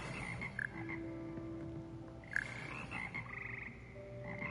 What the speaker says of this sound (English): Here perch the slimy yet significant frogs that compose Hogwarts Frog Choir